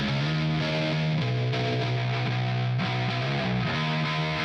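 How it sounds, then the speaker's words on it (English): A distorted electric bass through a TSE X30 distortion plugin with contour enabled plays a low, gritty, sustained line with a few note changes, heavily overdriven and bright, with no other instruments. "I have used the TSE X30 for the distortion, with the contour enabled because it gives more bright"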